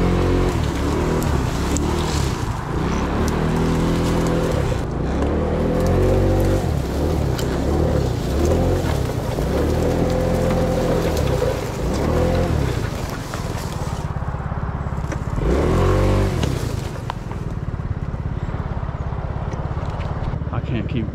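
A scooter engine droning and revving as it rides through thorny brush, a continuous close motor hum with rising and falling pitch, and a voice talking over it.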